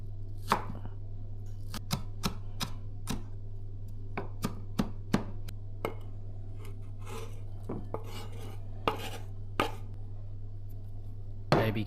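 A knife thinly slices a shallot on a cutting board for tartare sauce, a run of sharp, close taps in an uneven rhythm over a steady low hum, with no talking.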